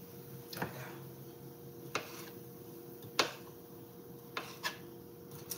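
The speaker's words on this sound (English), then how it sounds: "So right now I'm just chopping up the sausage." A knife chops sausage on a cutting board in a home kitchen, giving a handful of sparse, quiet taps spaced about a second apart over a steady low background hum.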